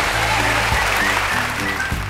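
An audience applauds at the start of a comedy challenge show, dense continuous clapping over a low tonal music bed, steady and fairly loud for the whole stretch.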